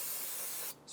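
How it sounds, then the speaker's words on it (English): Brake parts cleaner hisses in one steady, loud, close spray onto an engine during a 2012–2020 Chevrolet Sonic valve cover replacement, cutting off abruptly near the end with a short trailing puff. "we're going to take a clean rag and some brake parts cleaner, spray it down"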